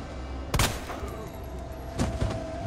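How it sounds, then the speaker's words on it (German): Gunfire in the video game Resident Evil 2 Remake: two sharp bursts of shots about a second and a half apart, loud and close, against a quiet game background. "Okay, 4 Schüsse hat das gekostet."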